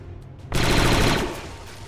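A sudden, loud burst of rapid gunfire from the video game XCOM 2 rattles for about a second before tailing off, close and with no voices.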